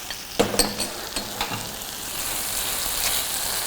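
Butter chicken masala and spices are stirred in a hot pan, a few clattering scrapes of the spoon standing out over a steady sizzle that continues afterward.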